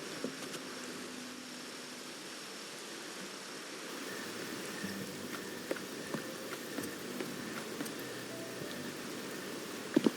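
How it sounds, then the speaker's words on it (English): Rain falls in the video game Wuthering Waves as a soft, steady hiss with faint scattered drops and occasional light ticks, heard alone and fairly quiet throughout. "The rain's back."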